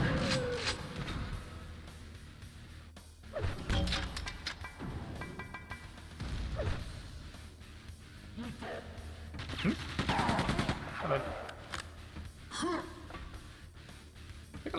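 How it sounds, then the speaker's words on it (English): Grenade launcher fire and explosions in the video game Quake II: Ground Zero, heard as several booming blasts and crashes at irregular intervals over game noise, with occasional gasps or breaths between them. "We launch grenades until something complains about being exploded."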